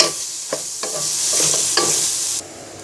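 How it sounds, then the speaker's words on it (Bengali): Chopped onions sizzle and fry in hot ghee for a Puran Dhaka Hajir biryani, with steady broadband hiss broken by a few sharp stirring scrapes, close and fairly loud. "এবার পেঁয়াজটাকে ব্রাউন কালার করে ভেজে নিব।"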